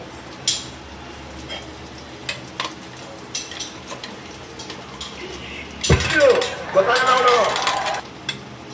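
Onions fry in a pan for tomato rasam, a faint sizzle under scattered utensil clinks and taps, then a louder burst of crackling and scraping as they are stirred near the end.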